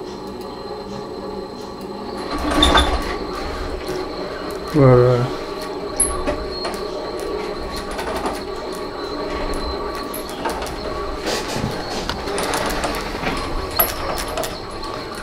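Homebuilt 4 x 8 pipe gantry CNC machine with servo drives running a program, a busy mechanical whir with squealing and rattling motion sounds throughout, rising and falling in bursts, a brief word spoken near the start.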